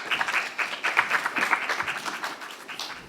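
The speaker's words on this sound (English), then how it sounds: "Let's applaud my panelists, please." An audience at a panel discussion applauds the panelists, a dense, steady clapping from many hands close by that fades slightly at the end.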